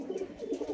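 Kaldum Madrasi pigeons cooing close by in a short, continuous burst of low, soft throaty coos with no talk.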